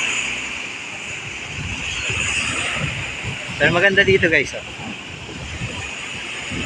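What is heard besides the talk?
high ocean waves with wind at the shore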